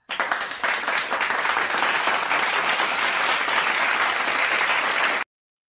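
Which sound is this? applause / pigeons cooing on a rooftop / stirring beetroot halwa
applause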